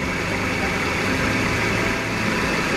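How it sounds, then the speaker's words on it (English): A car engine idling steadily after a restart, serviced during a DIY automotive air-conditioning recharge, giving a continuous broadband rumble at constant level throughout. "We'll start the engine back up."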